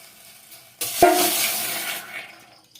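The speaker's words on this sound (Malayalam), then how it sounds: "ഇതിനായിട്ട് നമുക്ക് ആദ്യം 1/2 ലിറ്റർ പാൽ ഒഴിച്ചു കൊടുക്കാം." Half a liter of milk poured into a container for pistachio ice cream, a sudden steady gushing pour lasting about a second and tapering off, close and clear with no talking.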